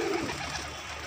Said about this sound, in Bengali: জিরা গমটা দিই কবুতরে